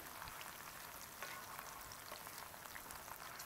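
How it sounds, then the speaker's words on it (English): Onions softening in a cast iron pan on residual heat after the burner is switched off, giving a faint, steady, hissing sizzle with no voices. "Just going to let the residual heat get them onions going."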